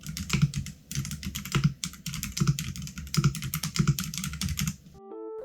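Fast bursts of typing on a keyboard fitted with hotswap linear mechanical switches, smooth muted clacks in quick rolling runs with brief pauses, close and clear, ending on a short electronic chime.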